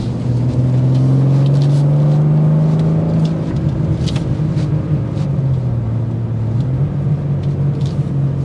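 A 2024 BMW M2 manual coupe driving through bends, its engine holding a loud, steady note that rises and dips slightly as speed changes, heard from inside with road rumble throughout and no talk.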